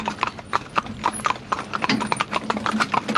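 Horses' hooves clip-clopping as three horses move side by side in a trandem, a brisk, close, overlapping rhythm of hoof strikes on hard ground, busy and continuous.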